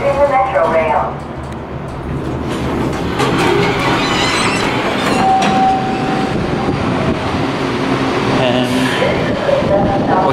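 A Washington WMATA Metro train rumbles and clatters into Forest Glen station, with a squealing wheel tone midway and a chime, while people talk nearby.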